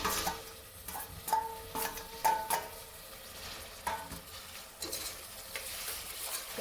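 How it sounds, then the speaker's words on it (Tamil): Tomatoes sautéed with onions in a pan for a country chicken kuzhambu make a soft, close sizzle broken by repeated scraping and stirring knocks of a spoon against the pan, no voices. "இந்த ஸ்டேஜில் வந்து நம்ம வந்து தக்காளி சேர்த்துக்கலாம்"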